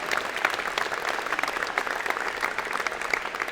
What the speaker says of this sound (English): give the women engineering students a big round of applause